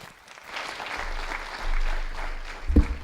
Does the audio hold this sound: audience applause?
yes